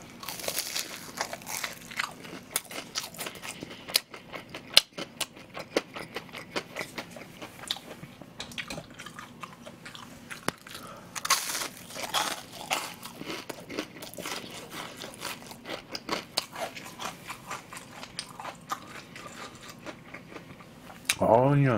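Crispy deep-fried pork cutlet (donkatsu), delivered some time earlier yet still crisp, crunched repeatedly in a steady run of close, sharp bites and chews at a mukbang eating session, with no talking over it.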